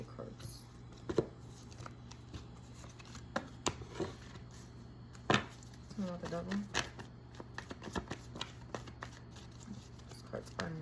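A deck of tarot cards is shuffled in repeated bursts of sharp riffling and snapping, with quick clicks and flutters and short pauses between bursts, while a person talks quietly.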